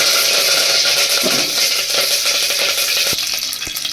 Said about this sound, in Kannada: ಎಣ್ಣೆ ಕಾಯ್ದ ನಂತರ ಸಾಸಿವೆ ಹಾಕ್ಕೊಂಡು ಕರಿಬೇವಿನ ಸೊಪ್ಪು ಹಾಕ್ಕೊತಾ ಇದ್ದೀನಿ